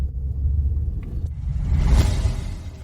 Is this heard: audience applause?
no